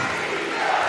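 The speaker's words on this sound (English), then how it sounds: "Listen to the crowd roar." Basketball crowd at a league semi-final between the Newcastle Eagles and London Lions roaring as the Eagles extend their lead, a dense, steady wall of arena noise.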